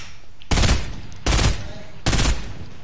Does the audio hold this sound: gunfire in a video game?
yes